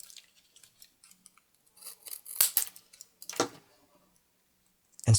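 Small Swiss Army knife scissors snip off excess material from a handmade survival whistle, giving a few close, crisp metallic cuts among quiet handling clicks.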